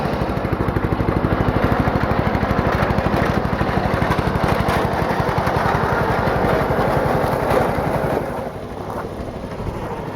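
A brush mower engine idles low and steady, a continuous throbbing drone that sits close and even throughout, dipping slightly in level near the end with no talking.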